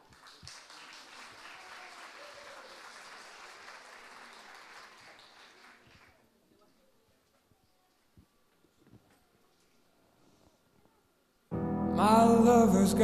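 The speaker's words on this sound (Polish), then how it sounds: "Ogromne brawa." Applause from a theatre audience at a dance show in Płońsk before a ballet soloist performs, soft and spread out for several seconds before dying away, then loud music starts abruptly near the end.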